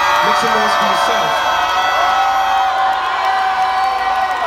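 A huge outdoor concert crowd at an Eminem show in Bellahouston Park, 2017, cheers and whoops loudly and continuously, a dense roar of voices throughout.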